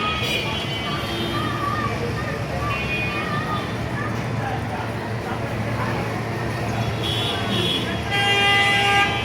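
Car horns toot repeatedly in an evening road traffic jam in Bangladesh, over a constant rumble of engines, with voices talking throughout.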